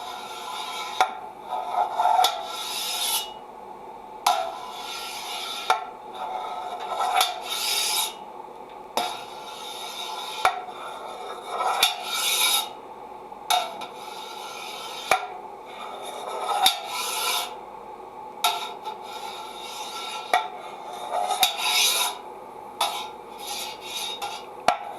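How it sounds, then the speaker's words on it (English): A large palette knife cuts through halloumi curds in a pot in 2 cm cuts, making repeated close rasping, scraping strokes through liquid in steady bursts with brief pauses. "the curds are ready and we're going to start to cut. So I'm going to get my big palette knife"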